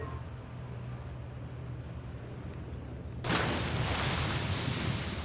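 A plunge into water in Outer Wilds after a leap down an elevator shaft: a quiet, low rumble gives way suddenly to a loud, sustained rushing wash of water that carries on to the end.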